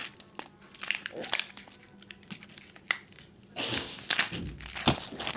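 Crinkly plastic snack package being torn open and crumpled up close, with sharp crackling bursts and rustles that intensify toward the end, with no speech over them.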